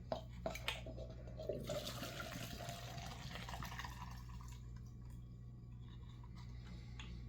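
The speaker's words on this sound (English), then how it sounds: "We're going to pour the fuel back out of it." Gasoline runs steadily out of the fuel tank of a Jonsered 2050 chainsaw, a continuous close liquid trickle and splash over a low hum, starting with a few small knocks.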